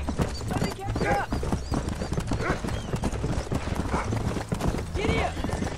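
Horse hooves clip-clopping in Red Dead Redemption, a steady rhythmic beat with occasional whinnies, set under continuous game sound and someone talking over it.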